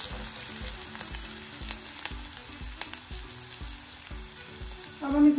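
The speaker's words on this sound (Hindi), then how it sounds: "अब हम डाल रहे हैं बारीक कटी हुई लहसुन। इसको हम 1-2 मिनट के लिए अच्छे से फ्राई कर लेंगे।" Finely chopped garlic frying in a pan for a spicy green onion and potato sabzi, a steady soft sizzle with faint rhythmic stirring taps, close and quiet, ending in a brief louder scrape.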